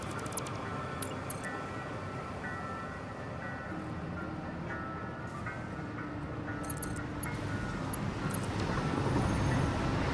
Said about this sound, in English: That train through that corner so fast.